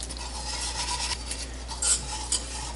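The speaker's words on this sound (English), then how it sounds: "We need a whisk for this process" A whisk stirs six cups of milk in a pot over medium heat, making soft, continuous scraping and swishing with a couple of light metallic clinks.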